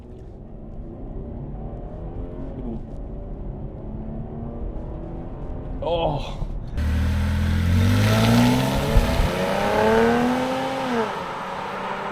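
A 2014 Holden Commodore SV6 Collingwood edition accelerates hard from a brake-boosted launch, its engine note sweeping upward in loud rising pulls after a quieter idle, with a brief exclamation from an occupant.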